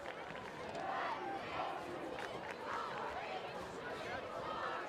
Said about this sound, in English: You can hear that Marshfield crowd into it as always